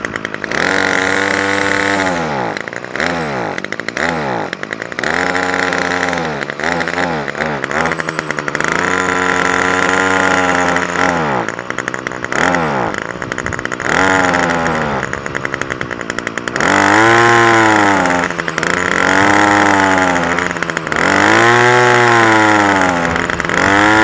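A Titan string trimmer's small petrol engine runs on half choke after sitting unused for about a year. The revs surge and fall in uneven, repeated waves, loud and close, with no talking over it.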